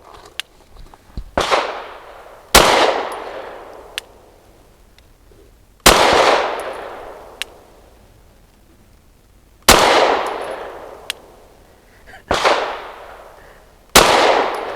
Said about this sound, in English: 5 shots from 7 yards using that same bulk 124 grain